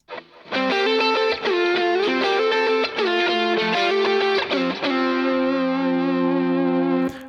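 Three stacked synth lead harmonies play alone, loud and buzzy with distortion and chorus, moving through a short phrase of sustained notes before settling on a long held chord.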